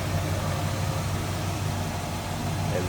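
A 1971 Oldsmobile Cutlass Supreme Convertible's Rocket 350 V8 idles smoothly and steadily nearby, a constant low rumble with no revving.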